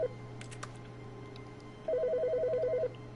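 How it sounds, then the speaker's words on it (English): An office telephone rings in The Stanley Parable video game, a single rapid electronic trill burst lasting about a second over a low steady hum, with faint taps beforehand. "Phone ringing? Where phone?"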